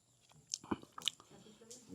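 Someone eats cooked mutton at a hill-top resort meal, making a few close, soft bites and wet chewing noises in a quiet room.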